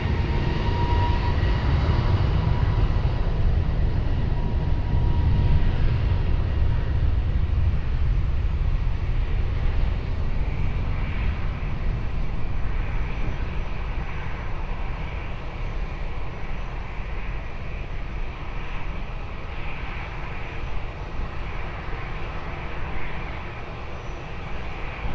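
Long, heavy engine roar of an airplane taking off at Lisbon Airport, strongest at first and slowly easing as it recedes, a continuous broad rumble heard from outside.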